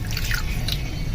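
About a glass of water splashes steadily into a cooking pot of beef korma with salt and turmeric, a brief, close, continuous pour with no talking.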